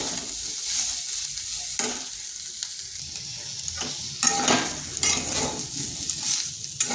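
Soybean chunks fry in oil in a kadai with a steady, fairly loud sizzle, broken by scraping stirs of a spatula against the pan and a few brief clatters of utensils.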